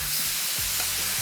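Beef strips searing and being stir fried in a hot wok, a dense continuous sizzle with faint scraping and tossing movements, close and alone.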